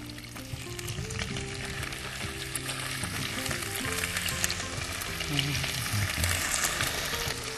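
Small cubes of diced ham sizzle and fry in a pan over lowered heat, a steady crackling hiss with light stirring, no voices.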